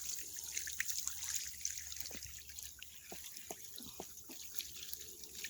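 A black drum fish fillet is rinsed under a running tap, making a soft, fairly faint trickle with scattered splashes and drips near a sink.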